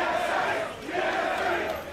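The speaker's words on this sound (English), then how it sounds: "The crowd chanting their favorite tri-codes for their favorite team" A large esports arena crowd at an NA LCS League of Legends summer match chants team tri-codes in a loud, steady, rhythmic roar that swells and dips over two seconds, with no talk over it.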